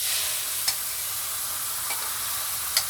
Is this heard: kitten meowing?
no